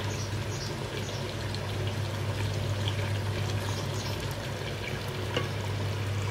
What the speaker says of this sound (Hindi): इसमें अभी हम डालेंगे अपना योगर्ट एंड अनियन का पेस्ट ग्राइंड कर चुके थे